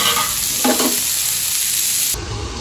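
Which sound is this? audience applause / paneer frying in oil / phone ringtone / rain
paneer frying in oil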